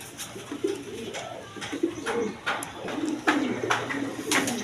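A black Danish pigeon coos in a repeated series of soft, low throaty calls, close by and fairly quiet over a light background hiss.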